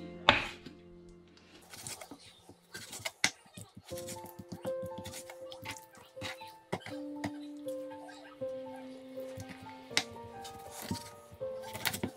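Chicken being chopped into pieces on a cutting board for an oven-baked grilled-pork-style chicken dish, with irregular sharp knife chops and board knocks, fairly close, mixed with other kitchen clatter and a brief voice.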